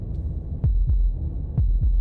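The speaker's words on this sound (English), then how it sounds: "That was the sound of a heartbeat" Two double heartbeats thump heavily and close in Slay the Princess, each lub-dub pair loud and deep over a faint steady high tone, with a short pause between the pairs.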